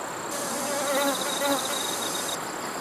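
Honeybee hovering near flowers, a steady close buzzing drone with slight pitch wavering, heard alone over a soft outdoor background.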